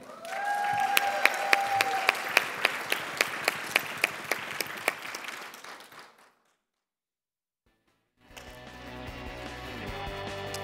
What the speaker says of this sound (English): One more round of applause for all the honorees from information technology with 10 through 20 years of service.